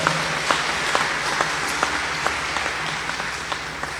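Congregation applause fills a church service, a steady wash of many hands clapping throughout with a few sharper, distinct claps standing out at a regular beat, heard at moderate loudness and without speech.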